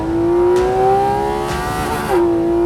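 A Porsche 718 GT4 RS sports car engine screams steadily and loud at high revs, pitch climbing then dipping briefly before surging again, with no voices.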